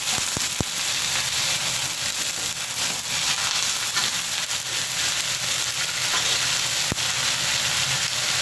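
Meat fries in a hot pan with a loud, dense, continuous sizzle. Occasional sharp clicks of stirring break through, and no one talks.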